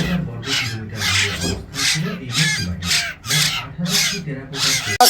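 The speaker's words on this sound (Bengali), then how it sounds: "আপনারা দেখতে আমাদের ময়না পাখিগুলো কত টিপ কত সুন্দর দেখেন দেখেন" Repeated harsh, raspy calls of myna birds at a bird market in Mirpur-1, Dhaka, in regular bursts, loud and close, about eight calls with short pauses between them.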